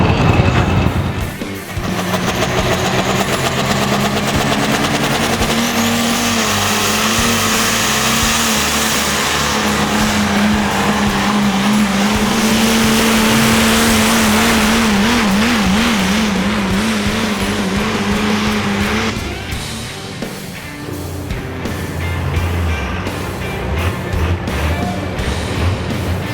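Heavy pulling trucks and tractors roar loudly and continuously at a truck and tractor pull, engine pitch rising and wavering under strain before dropping off, with dense mechanical rumble throughout.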